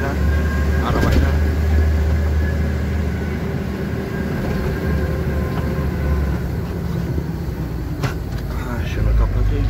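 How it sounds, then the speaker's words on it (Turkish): An old Kırkayak dump truck's engine idles loudly and steadily, its worn body rattling and clanking throughout over a deep continuous rumble. "Abici, eski araba ya. Her yerinden ses geliyor yani."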